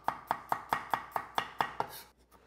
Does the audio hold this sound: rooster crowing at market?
no